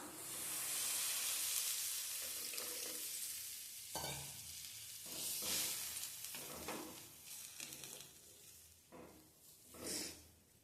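A ladle stirs curry with turmeric and tamarind water in a hot pan, with scraping and sloshing strokes over a constant sizzle that fades slightly as stirring continues.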